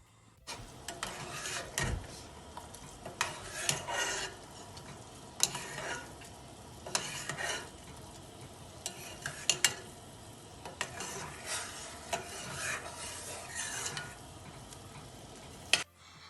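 Sugar syrup for jalebi bubbling and sizzling in a pan, broken up by repeated scraping and clicking bursts of stirring at irregular intervals.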